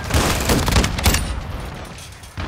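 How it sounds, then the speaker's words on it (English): Rapid overlapping gunfire bursts from a Call of Duty: Modern Warfare II match on the Shipment map, loud close shots clustered early then tapering off, with a sharp single report near the end. "Shotguns rule this fucking game. Yeah, I'm definitely using one right now."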